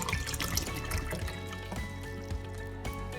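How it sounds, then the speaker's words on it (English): A gallon water jug filling under a kitchen tap, a steady rushing trickle heard close up and at moderate volume, with no talking. "I fill up my water jug so I know I have a gallon a day"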